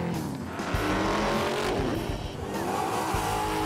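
Car engines roar on a track at a Powercruise event as tires squeal and skid, with a vehicle sweeping past at speed amid continuous engine noise.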